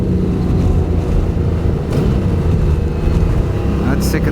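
A Honda NC750X motorcycle engine pulls steadily in third gear with a loud, constant drone and heavy wind rush over the microphone throughout.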